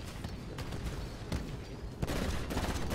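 Rapid bursts of smart pistol gunfire in the Titanfall video game, dense crackling shots rattling almost continuously over a busy, loud battle background, with a sharper pop near the end.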